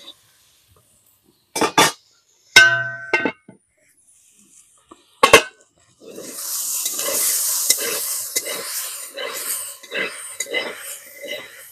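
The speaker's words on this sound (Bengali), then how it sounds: "তো এই যে ফ্রাইটা করছি একদম ভাজা ভাজা করে করছি" Vegetables with raw chickpeas stir-fried in a little oil for a thankuni leaf recipe: a few utensil clanks, then a steady close sizzle broken by rhythmic stirring scrapes.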